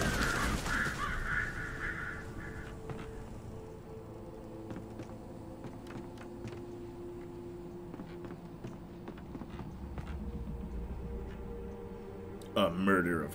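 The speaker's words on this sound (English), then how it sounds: "A murder of crows." Crows caw from a flock in the video game Alan Wake, harsh calls scattered over game ambience while people talk through most of the scene.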